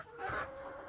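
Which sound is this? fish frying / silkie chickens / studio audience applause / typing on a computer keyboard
silkie chickens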